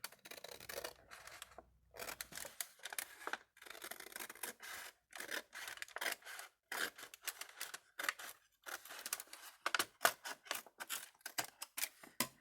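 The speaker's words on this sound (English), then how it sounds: "It's hard to cut on that line." Scissors snip through paper in a quick, uneven run of crisp cuts with brief pauses between them, close and fairly quiet, and no talking.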